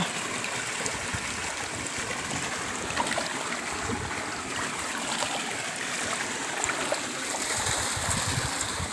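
Water flows steadily with a continuous babbling rush through a farm irrigation channel, with no voices.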